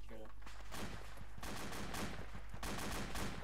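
Rapid enemy gunfire crackles through a military video game firefight, a dense run of repeated shots with short bursts under steady background noise.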